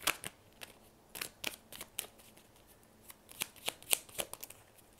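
Tarot cards shuffled and drawn during a French love reading, a run of crisp riffling snaps and flicks in irregular bursts, close and fairly quiet with no talking.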